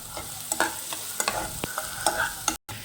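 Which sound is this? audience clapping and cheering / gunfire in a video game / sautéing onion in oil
sautéing onion in oil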